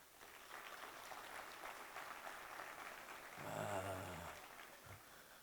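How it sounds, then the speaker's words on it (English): A comedy club audience claps together in a steady patter of applause, loud through the room and then fading away toward the end. "married people, clap your hands"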